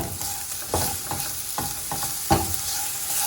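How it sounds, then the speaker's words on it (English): A spoon scrapes and stirs hardened, candy-like glaze in a pan, with repeated sharp scraping strokes and a faint frying sizzle underneath, up close with no talking. "I'm putting a spoon in my pan"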